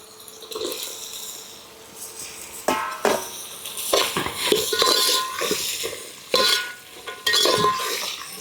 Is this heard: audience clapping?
no